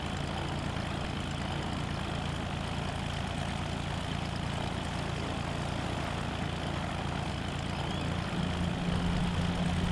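An aircraft engine in the DayZ video game, a steady, loud propeller drone idling without a break for the whole stretch.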